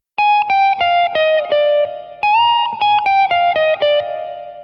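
Clean, sustained electric guitar with effects, likely distortion and reverb, plays a hot fusion lick: a bend up from the root to the 9th, then a run of separate notes stepping down the scale, ringing out alone at the end.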